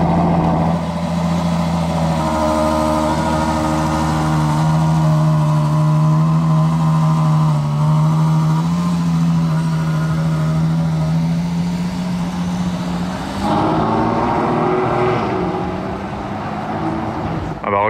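Ferrari Purosangue with a V12 engine, a loud, close, steady engine tone with a strong low hum and stacked harmonics, shifting pitch slightly as it runs, then changing character near the end.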